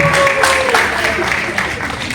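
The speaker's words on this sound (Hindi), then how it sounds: "जोरदार तालियां दीजिए यार" Crew and onlookers on a film set clap for the actors after a take, a short burst of mixed clapping with a voice talking over it.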